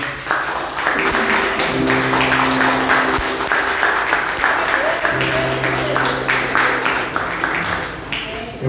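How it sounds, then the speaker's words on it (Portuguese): A congregation applauds during a Portuguese-language church celebration service, with steady, dense clapping filling the space for most of the span. Sustained musical tones play underneath, and faint voices are heard. "Você pode aplaudir o Senhor?"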